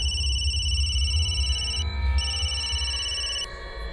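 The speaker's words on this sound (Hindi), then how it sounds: "तो उसके भाई गौतम को फोन किया मैंने।" A telephone rings with a steady electronic trilling tone that pauses briefly and resumes, heard over a low background hum with no talking.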